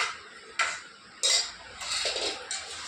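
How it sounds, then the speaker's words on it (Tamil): Lemon rice being stirred in a metal pot: several scraping clatters of a spoon against the pot come in irregular bursts, close and moderately loud, with no voices. "லெமன் சோறு கிண்டிக்கிட்டு இருக்கேன்"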